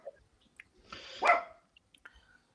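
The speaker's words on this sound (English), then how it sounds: "You're going to mute yourself, aren't you, because of the dog barking in the background?" A dog barks in the background during a radio town hall call, one muffled bark swelling out of faint noise around the middle, heard at a distance.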